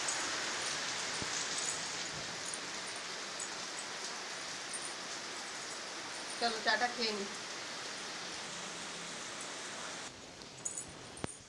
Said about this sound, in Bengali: আজকে তো সারাদিনই বৃষ্টি হচ্ছে